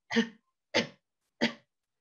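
Three short, dry habitual coughs of a child spaced evenly apart, imitated by a voice, close and fairly quiet with silence between them.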